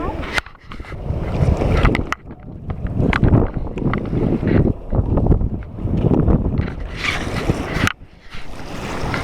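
A raft is paddled down the Deschutes River. Water churns and splashes constantly while paddles dig in, with wind buffeting the microphone and voices calling out over the rushing river.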